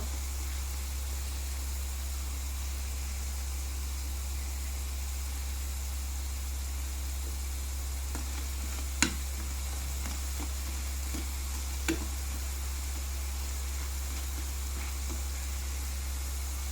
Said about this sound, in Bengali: আমি ওগুলোকে একটু ব্রাউন কালার করে বেজে তুলে নিব